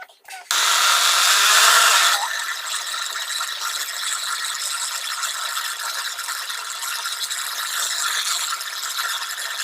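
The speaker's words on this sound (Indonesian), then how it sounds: "Nah, baru kita taruh di blendernya." An electric blender whirs loudly and steadily, grinding roasted coconut with a little oil; a brief, louder burst at the start settles into a continuous mechanical hum that runs the whole way through, with no talk over it.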